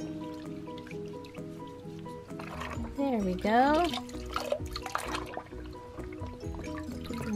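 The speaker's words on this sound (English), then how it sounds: "Let's rinse you off." Water pours and splashes over a toy in a bathtub, with gurgling rinse sounds and a brief voice over the running water.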